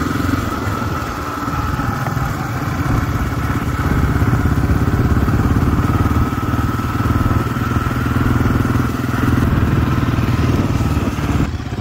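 Honda XR and CRF dirt bikes ride together, their engines droning steadily and loudly with a rough, throbbing note and rattling wind buffeting throughout.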